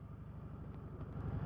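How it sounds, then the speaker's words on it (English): Stock exhaust of a 2014 Kawasaki Vulcan Vaquero 1700 SE motorcycle: a steady, pulsing low rumble close by, even and unbroken throughout, with no voices. "Stock exhaust, as you can hear."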